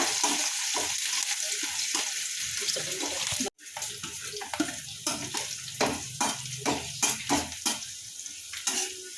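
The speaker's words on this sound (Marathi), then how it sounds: "मी छान असा बारीक कांदा असा परतून घ्यायचा" Finely chopped onion sautés in a pan for aloo paratha, a close sizzle with a brief break partway, then rhythmic stirring scrapes and hissing bursts that rise and fall repeatedly.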